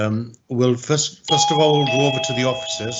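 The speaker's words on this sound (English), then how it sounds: "that's my doorbell ringing." A doorbell rings with steady sustained tones under someone speaking during a licensing hearing, the chime entering partway through and continuing beneath his talk.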